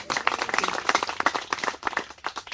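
A crowd at a poetry recital during the Shri Ram Mahotsav in Orchha applauding, dense and steady clapping from many hands throughout, fairly loud and continuous.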